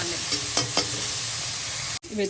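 Vegetables frying in a pan for pav bhaji, a steady soft sizzle with a couple of light stirring scrapes and a brief dropout near the end.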